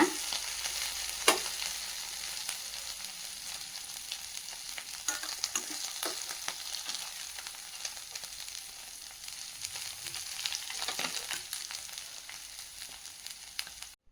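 Coriander leaves being lightly sautéed in a pan give a steady, fairly soft sizzle. A few brief scraping stirs stand out, and no one talks over it.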